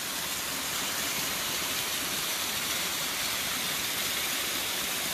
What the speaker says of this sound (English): It's a pretty waterfall, just a long trail.